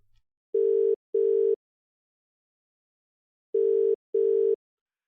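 Telephone dial tone pulsing while a call is placed: two short steady beeps, a pause, then two more, clean and alone on the line.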